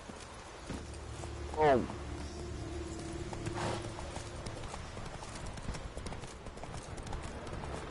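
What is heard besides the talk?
horse Roach trotting in the video game The Witcher 3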